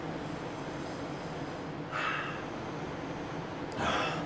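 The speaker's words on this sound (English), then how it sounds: "Let's have a sniff." Two short, close sniffs of a glass of St. Ambroise raspberry ale, each a breathy rush of air about two seconds apart, over steady background hiss.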